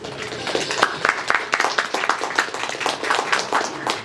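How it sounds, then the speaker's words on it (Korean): An indoor audience at a Korean forum on NEOM City strategy breaks into brief, moderately loud applause, a dense patter of many hands clapping for a few seconds. "다시 한번 큰 박수 부탁드립니다"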